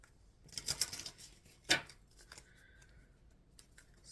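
Tarot cards are shuffled in a few quick riffling bursts, crisp and close, separated by quieter pauses with soft handling sounds and no talking over them.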